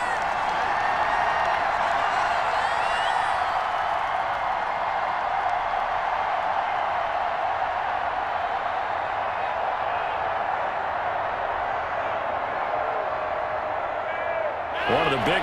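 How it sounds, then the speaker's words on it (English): Stadium crowd in Madden 21 during a Green Bay Packers vs Tampa Bay Buccaneers game, a steady roaring wash of cheering and noise that holds at a constant loud level throughout, with a commentator's voice running over it. "the crowd getting into it as we come up on a big third down"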